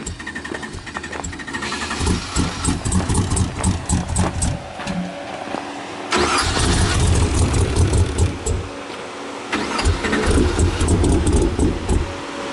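A Baja 1000 trophy truck out of gas in rough desert terrain cranks repeatedly, the engine sputtering and catching in uneven bursts without settling into a steady run.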